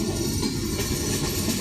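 The Modhumati Express rumbles along on the rails just after leaving Pakshi station, with a steady, loud low roar and continuous wheel noise.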